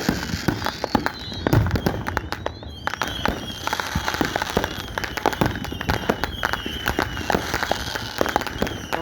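Fireworks going off after sunset on the Oregon coast, a continuous barrage of crackling pops and bangs with whistling rockets, some close and others farther away, steady and dense throughout with no voices over it.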